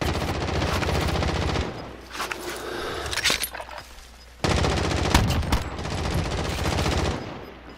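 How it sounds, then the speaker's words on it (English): Sustained automatic gunfire from a battle-royale video game, loud and dense for the first couple of seconds, dropping to sparser shots and quieter noise, then resuming as a heavy continuous burst that fades near the end. "Is that you shooting, Corey?"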